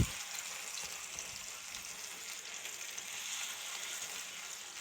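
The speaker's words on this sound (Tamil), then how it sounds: "நம்ம லோ ஃப்ளேம்லேயே வச்சு தான் பொரிக்க போகிறோம்." Masala-coated fish fries in oil over a low flame, giving a steady, close hiss and crackle with no pauses throughout.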